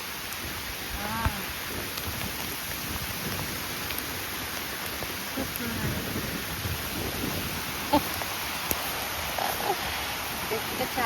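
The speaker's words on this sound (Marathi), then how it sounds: "खूप मस्त सर आले पावसाचे" A steady, even hiss of rain pours down without a break over a green village meadow, close and fairly loud, with faint voices now and then beneath it.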